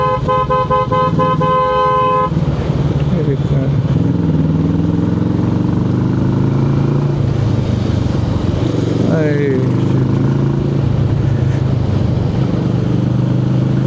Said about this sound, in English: I could sneak out because I am on the motorcycle